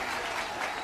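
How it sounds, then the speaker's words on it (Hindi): Brief burst of crowd applause from a gathering on an open ground, dense and steady throughout the short moment with no voices on top. "उसका अगला वाक्य तालियों की गूंज में डूब गया।"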